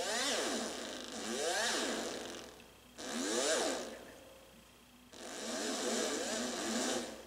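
Yamaha Reface DX FM synthesizer on its Chopper preset, three bursts of buzzy, rhythmically sweeping tones that rise and fall like a rotor, each held a couple of seconds with brief gaps, no talking.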